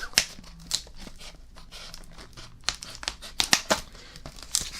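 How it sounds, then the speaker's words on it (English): Plastic packaging around tiny He-Man, Teela, Battle Cat and Skeletor toy figures is cut and torn open, giving close, sharp crinkling and ripping bursts in short irregular spurts. "let's go ahead and cut around here and open these up"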